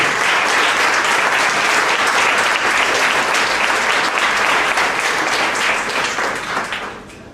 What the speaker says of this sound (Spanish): Dale un aplauso a eso